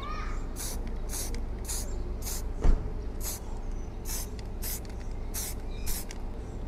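Samurai aerosol spray paint hisses onto the crown part of a Yamaha RXZ motorcycle under restoration in a series of short, close bursts, about ten quick sprays, with one sharp knock partway through and no talking.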